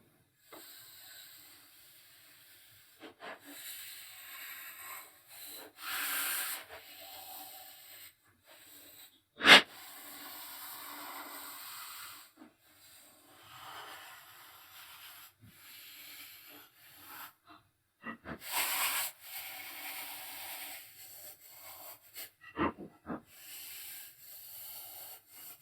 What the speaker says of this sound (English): I'm just going to go in with this Duragold pad. It's about 300 grit, so I'm just going to lightly scrub these down